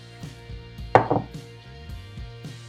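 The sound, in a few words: leftover rice being added into a pot for rice pudding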